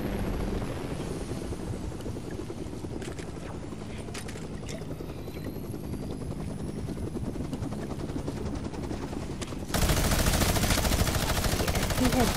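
In a Fortnite match, a helicopter's rotor drone runs continuously while rapid bursts of minigun and gunfire crackle over it, growing louder and denser toward the end.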